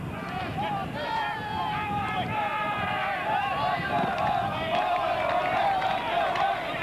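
Crowd of around 800 spectators at a Mangotsfield football match in 1996, a continuous loud roar of shouts and cheering with excited, swelling voices throughout.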